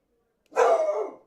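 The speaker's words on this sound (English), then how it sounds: "she is obnoxiously loud when she barks" A single loud, sharp dog bark, close and sudden, lasting well under a second and rising out of silence.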